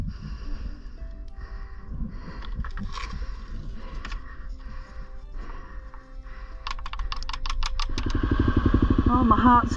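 An adventure motorcycle engine drones steadily and revs harder toward the end as the rider crosses water on a dirt track at a farm, loud and close, with the rider's voice exclaiming over it.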